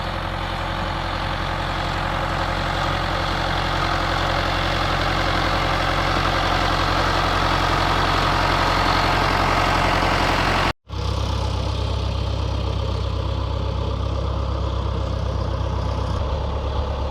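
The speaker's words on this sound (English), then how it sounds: "So Sharon's driving, we're loading the trailer" A vehicle engine idles steadily and loudly while a firewood trailer is loaded in an almond orchard, a constant low rumble that cuts out briefly before resuming.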